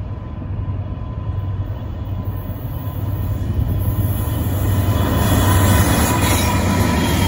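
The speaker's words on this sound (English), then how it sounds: "The next train that I saw was NS20W with an ST70 ACC trailing." An NS freight train, 20W, with a trailing ST 70 ACC locomotive, rolls past nearby at Bound Brook, New Jersey, with a steady, heavy rumble and rail noise that swells gradually louder toward the end, with no voices.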